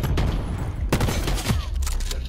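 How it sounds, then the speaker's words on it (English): Short bursts of AUG rifle fire in Call of Duty: Black Ops 4 Hardpoint multiplayer, several loud, sharp shots in clusters over constant game background noise. "The AUG is a burst weapon in this game?"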